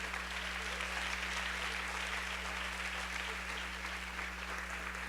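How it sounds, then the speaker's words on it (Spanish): A church congregation applauding during a Spanish-language sermon, even continuous clapping from many hands over a low steady electrical hum, with no talk. "Puedes aplaudir al Señor."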